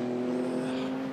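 An IMSA sports prototype race car at Watkins Glen hums steadily as it returns toward the pit lane, a sustained mid-distance engine drone with no change in pitch.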